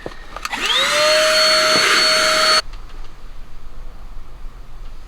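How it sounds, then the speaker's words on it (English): A vacuum cleaner switches on and roars loudly with a steady high whine for a couple of seconds, sucking up metal shavings during a Subaru WRX roll bar install, then cuts off abruptly, leaving quiet room noise. "we're just going to vacuum it out, get all the metal shavings out of here"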